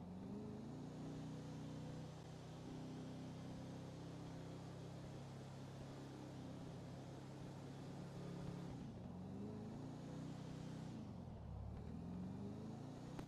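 A taxi's engine revs hard and steadily at high speed in a driving video game, a continuous loud motor drone that dips and swells briefly near the end, with no voices.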